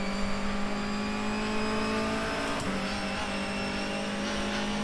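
A BTCC 2020 NGTC race car in rFactor 2 accelerating, with a sustained high engine whine holding a steady tone and shifting slightly partway through, loud and continuous with no talk.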